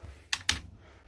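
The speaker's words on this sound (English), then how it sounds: "we just double press the space bar, and it should awaken our computer" Two quick, crisp clicks of a computer keyboard space bar sound close together, about a fifth of a second apart, in an otherwise quiet room with a low hum.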